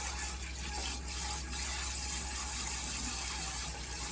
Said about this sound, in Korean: 그 찬물에 씻거든요